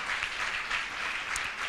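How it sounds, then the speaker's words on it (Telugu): Brief burst of steady clapping from a church congregation at a Sunday service, applauding the boys who recited verses, moderately close and without talk. "ఒక్కసారి వారి కోసం ఒక చప్పట్లు కొడదాం"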